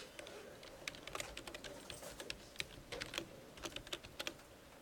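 Rapid, light clicking of keys on a computer keyboard, a steady patter of individual keystrokes at low volume over faint background hiss.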